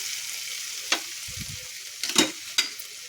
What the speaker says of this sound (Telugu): క్యారెట్ అంతా రెడీగా పెట్టుకున్నాను కదా, అదైతే బాగా మిక్స్ చేసుకోవాలి